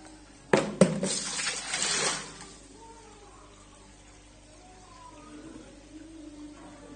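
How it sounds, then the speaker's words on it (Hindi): Water sloshes and splashes briefly as a bucket is dipped and scooped out of an aquarium sump tank, then a quiet room with faint murmuring. "तो ये मैं एक बकेट निकालूंगा टैंक में से,"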